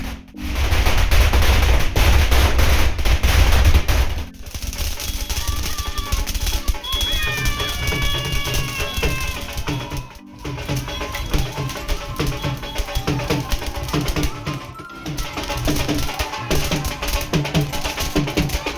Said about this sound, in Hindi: सब पटाखे वगैरह जला रहे हैं, पूरा फायरवर्क्स हो रहा है।